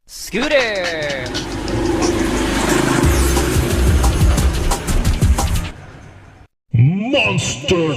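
A scooter engine is mimicked by voice: a loud, steady buzzing rev held for roughly five seconds. It fades, goes silent briefly, then a fresh burst starts near the end.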